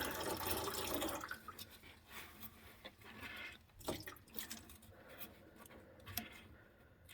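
Engine coolant drains from a 2014 Toyota Corolla S into a pan during a thermostat replacement: a steady liquid pour at first, then thinning into trickles and scattered drips, quiet and close.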